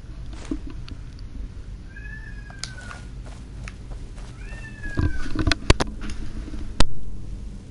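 A pet cat meows twice nearby, with drawn-out, rising-then-falling calls heard over a steady background hum, followed by a few soft taps and rustles.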